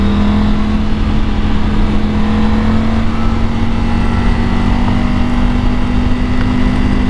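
A 2021 Triumph Tiger GT Pro motorcycle pulling hard in third gear, a loud continuous engine drone with a steady low tone and heavy wind roar throughout, no voices.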